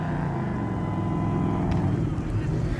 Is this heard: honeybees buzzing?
no